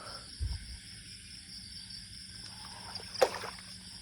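Quiet, steady wash of water around a small banana-trunk raft, with a soft knock early on and a brief splash near the end.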